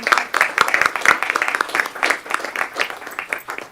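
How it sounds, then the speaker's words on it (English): An audience at a quarterly board meeting gives a round of applause: clear, moderately loud clapping that continues steadily and thins slightly toward the end. "So if we could please give them a round of applause"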